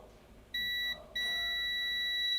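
Multimeter in continuity mode beeping while probing a laptop's shorted power rail: a steady electronic tone starts, cuts out briefly, then resumes and holds continuously, loud and clear over quiet background.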